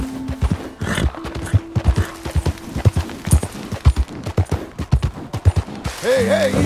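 Close hoofbeats from a mare in Red Dead Redemption 2 clatter in a quick, regular rhythm, and a short whinny rises near the end, with no talk over them.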